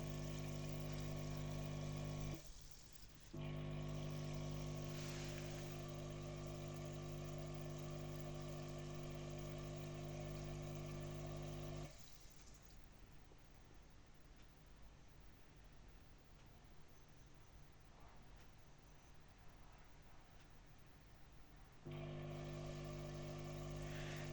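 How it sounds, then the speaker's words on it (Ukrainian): A YEE-100B battery-powered air compressor runs in interval mode, a steady droning hum that cuts off for about ten seconds of quiet, then starts again, with a brief dip early on. "вмикається через 10 секунд. Тобто 10 секунд працює, 10 секунд відпочиває."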